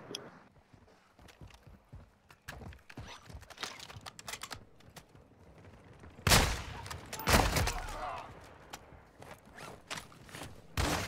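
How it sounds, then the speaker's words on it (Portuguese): Gunfire in the video game Call of Duty DMZ, scattered shots and clicks at first, then loud bursts of rapid fire with no talk. "Tá aqui o cara atirando em mim."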